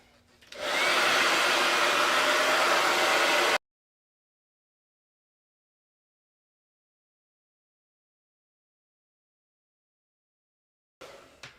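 A hair dryer runs close by for about three seconds, drying wood stain on an unsanded surface during home decor prep. It makes a loud, steady airy whir that cuts off abruptly into silence.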